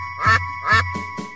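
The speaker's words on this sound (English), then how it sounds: "Mother duck called with a quack, quack, quack." A duck in a children's song quacks: two loud, clear quacks, then two softer ones, over a steady musical tone.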